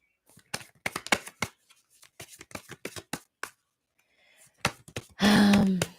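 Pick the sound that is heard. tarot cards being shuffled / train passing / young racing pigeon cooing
tarot cards being shuffled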